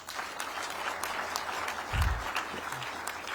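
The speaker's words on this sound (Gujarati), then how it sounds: "બધા માટે એક વખત તાળી થઈ જાય" An audience claps together for students at a scholarship event in Gandhinagar, a steady dense round of applause filling the room for a few seconds.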